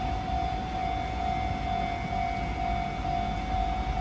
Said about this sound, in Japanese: 3番線から電車が発車いたします。